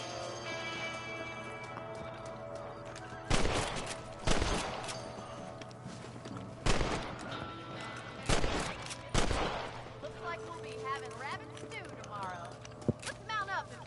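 Rifle shots at rabbits in Red Dead Redemption, five sharp, loud reports spaced a second or two apart, alongside horse hooves and a voice talking over the quieter stretches.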